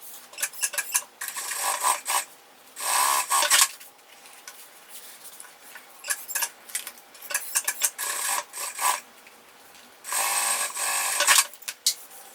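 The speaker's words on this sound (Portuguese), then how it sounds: "vou passar uma costura nas duas laterais" A sewing machine stitches the sides of a fabric pouch in several bursts of rapid whirring, some short and some lasting about a second, separated by quiet pauses and soft handling sounds.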